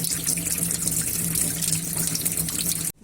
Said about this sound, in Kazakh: Міне суымыз жақсы кетіп жатыр.